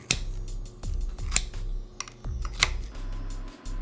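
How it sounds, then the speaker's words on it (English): Scissors snipping through half a cup of kimchi for fried rice: several close, crisp cuts spaced about half a second apart over a low background hum. "I'm just gonna use scissors to chop it up"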